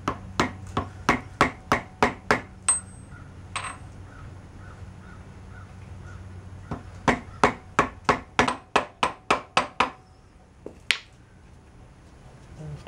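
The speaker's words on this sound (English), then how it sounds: "Just use a socket, rubber mallet." A rubber mallet taps on a socket to seat a rear wheel bearing on a Bayou 300 ATV. Two close bursts of sharp, evenly spaced knocks are separated by a quiet pause and a few scattered clicks, with no talking.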